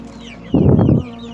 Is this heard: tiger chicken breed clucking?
yes